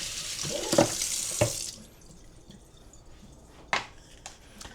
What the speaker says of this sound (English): I just rinse this off in the sink and then you can kind of set it off to the side.